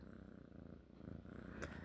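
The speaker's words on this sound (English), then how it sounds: "I have Kiki in my arms purring" Cat purring steadily while held in someone's arms, a close, soft, continuous rhythmic rumble heard alone.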